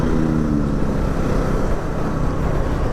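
A Bajaj Pulsar NS400Z motorcycle engine running steadily at speed, heard as a loud, constant roar mixed with heavy wind rush and no break throughout.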